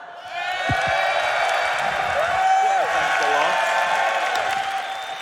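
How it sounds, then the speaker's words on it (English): A Finnish esports crowd at a CS2 event applauds and cheers the analyst desk, with broad clapping swelling and then holding steady, while people talk over it throughout. "Please round of applause for our fantastic desk as well."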